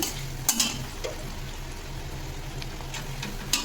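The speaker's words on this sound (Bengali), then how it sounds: "পাঁচফোড়ন, পেঁয়াজ, দারুচিনি, এলাচ আর লবঙ্গ দিয়ে ভেজে দিচ্ছি।" Panch phoron, onion, cinnamon, cardamom and cloves fry in hot oil in a home kitchen, a soft continuous sizzle punctuated by a few sharp crackles and clinks of stirring.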